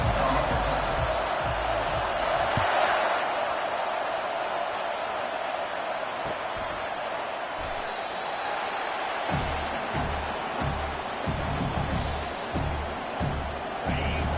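A stadium crowd roars steadily at a college football kickoff, a broad far wash of cheering that holds throughout, with an announcer's voice over it in the second half.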